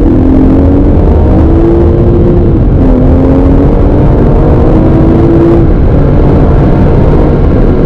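An all-wheel drive car accelerates hard through its gears, the engine note climbing steadily, dropping briefly at each shift, then rising again in a loud, close, continuous run.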